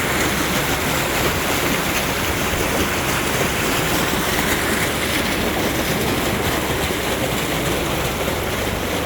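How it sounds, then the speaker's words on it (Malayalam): A forceful stream of water rushes through a built channel in Salalah, Oman, giving a loud, steady, broadband roar that continues unbroken for the whole stretch, with no voices over it. "ഈ വെള്ളമൊക്കെ നല്ല ഫോഴ്സ് ഉള്ള വെള്ളമാണ്"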